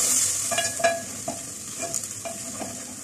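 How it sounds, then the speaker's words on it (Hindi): Chopped onions frying in hot oil for Punjabi sarson ka saag, a steady bright sizzle with intermittent stirring clatters, close and continuous without voices. "इस प्याज को ऑयल के अंदर फ्राई कर लेते हैं।"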